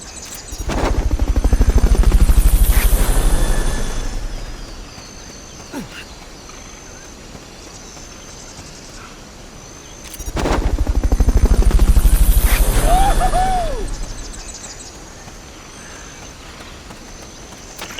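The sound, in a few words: helicopter in the Metal Gear video game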